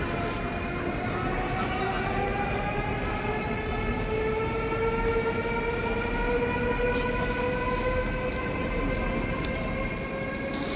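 A steady rumble of a train at a railway station, with rising and falling tonal squeals from the wheels or brakes, continuous and fairly loud, without anyone speaking.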